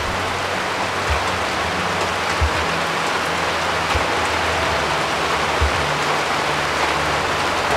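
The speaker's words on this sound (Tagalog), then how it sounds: "So tingnan mo, napakalakas ng ulan." Heavy rain pours steadily in a jungle, heard from inside a raised hut: a dense, loud, unbroken hiss of drops on surfaces with occasional heavier thumps, and no voices.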